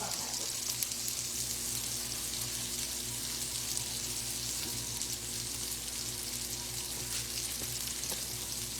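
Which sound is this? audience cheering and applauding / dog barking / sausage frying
sausage frying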